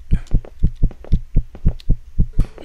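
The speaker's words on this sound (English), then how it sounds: "Maybe I should go sit down so my freaking heartbeat stops racing." A racing heartbeat from the 3D horror game Ghost Balloon: about ten loud, deep double thumps in a steady, fast rhythm, close and alone with no talking.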